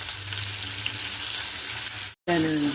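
Onions sizzle steadily in hot oil with curry leaves and turmeric, a continuous close frying hiss that cuts out briefly, then returns louder with a bright sputtering edge.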